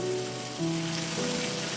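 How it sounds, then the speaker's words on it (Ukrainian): Steady sizzling of onions frying in hot oil, a dense crackling hiss with a low hum underneath, no voices. "дві великих цибулини обсмажуємо"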